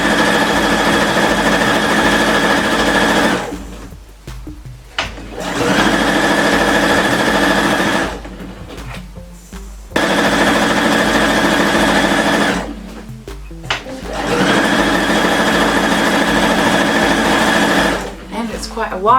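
Domestic sewing machine running in long bursts while stitching over an overlocked side seam on the wide base of a big, boxy dress, with steady whirring runs separated by short pauses.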